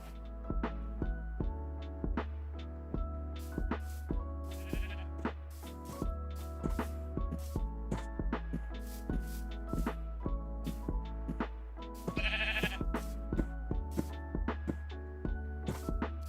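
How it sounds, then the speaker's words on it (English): Sheep bleating in the video game Minecraft, several loud close bleats repeating at irregular intervals over steady game background sounds. "I know there was like a black sheep around."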